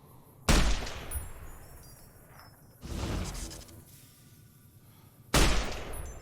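Three heavy gunshots from the Fallout: New Vegas video game land a few seconds apart, each a loud, booming blast with a brief lingering tail and some mechanical clatter between them.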